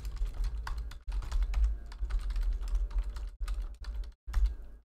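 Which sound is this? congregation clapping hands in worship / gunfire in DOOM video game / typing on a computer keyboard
typing on a computer keyboard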